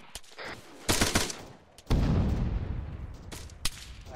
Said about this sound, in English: Alright, there's a 50 shooting at you.